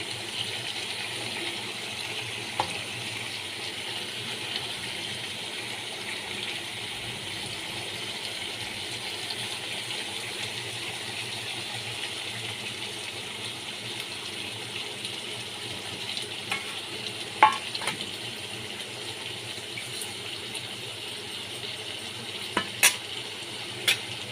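Hilsa fish pieces fry in a pan of oil with a steady, soft sizzle that runs throughout, broken by a few faint clinks and stirring taps of a utensil, quiet and close.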